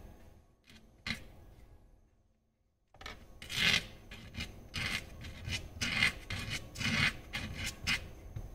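A small clock hand being cut to length by hand for a DIY Fibonacci clock: close rasping strokes with a few strokes early, a pause, then a steady run of repeated scraping cuts.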